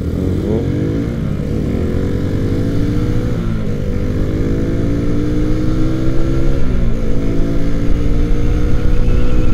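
A 2009 Suzuki Satria FU motorcycle rides at speed, its engine droning loud and close with rising and falling pitch through throttle changes, under steady wind rush.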